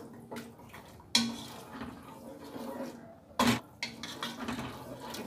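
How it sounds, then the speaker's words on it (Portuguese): A little water is poured into a fish sauce in a pan, a brief watery splash among clinks and knocks of pots and utensils, close and moderately loud. "Colocar um pouquinho d'água."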